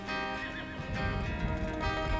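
A horse whinnies with a wavering, high call over a steady noisy background, with some low thumping that could be hooves.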